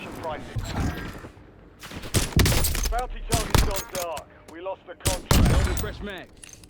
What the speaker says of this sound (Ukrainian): бо там хтось стріляє